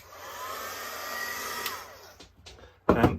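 Heat tool blowing on a mixed media art journal page, a steady whirring hiss for about two seconds that cuts off, followed by brief clicks and a loud rustle at the end.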